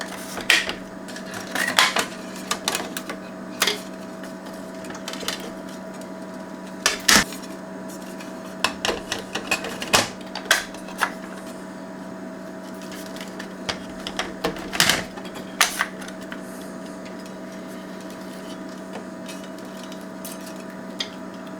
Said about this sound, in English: Might swap the tape over.